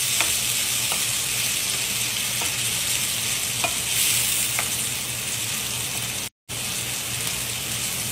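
Tomatoes sizzle and hiss in a hot pan for a Jizani mafash with tomato kishna while being stirred. Steady frying crackle runs throughout with a few soft utensil taps against the pan, close and moderately loud, no talking.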